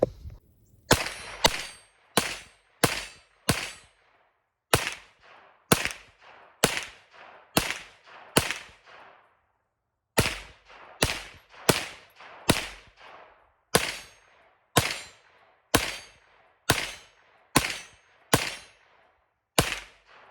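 Roughly twenty sharp gunshots from a Ruger PC Carbine in 9mm fed from a Magpul PMag, fired in quick strings of four to six with short pauses between, loud and close with ringing decay.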